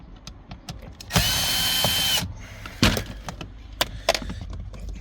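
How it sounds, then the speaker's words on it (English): A power drill whirs for about a second while backing a screw out of Toyota Venza interior trim, surrounded by small clicks and handling taps of tools and plastic. "Now let's get the screw out."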